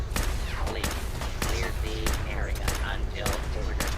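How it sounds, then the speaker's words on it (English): Shotgun blasts fired at a distant robot in Fallout 4's Nuka World, sharp booming shots spaced out roughly every half second to second, layered over game sound effects and music. "I'm blowing shotgun shells away like they're crazy, thinking, why is this guy not dying?"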